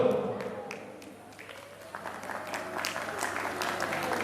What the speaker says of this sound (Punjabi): ਬਾਈ ਜੀ ਤਾੜੀਆਂ ਮਾਰੋ ਜ਼ੋਰਦਾਰ